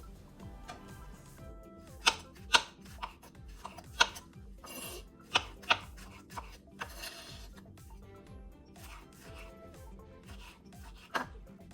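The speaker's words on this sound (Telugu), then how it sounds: "ఇప్పుడు మెంతెం కూర మంచి సన్నగా కట్ చేసుకోవాలా" Fresh fenugreek leaves are chopped finely with a knife on a board in a quiet, close series of soft, irregular taps and scrapes, with a few sharper knocks standing out.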